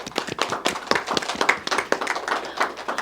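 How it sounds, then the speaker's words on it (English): A small audience at a school spelling bee applauds a contestant, giving a few seconds of quick, uneven hand claps at close range without any talking. "Give her a round of applause."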